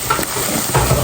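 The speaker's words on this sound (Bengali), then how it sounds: "তো এখানে কষায় নিতেছি" Onion paste with turmeric and coriander sizzling in a pan as it is stirred, a close steady fry hiss with scraping stirring strokes.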